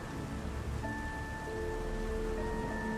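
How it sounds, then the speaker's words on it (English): Steady, gentle rain patters against library windows in a Hogwarts setting, a soft continuous hiss with faint sustained tones beneath it. "The rain continues its gentle percussion against the windows"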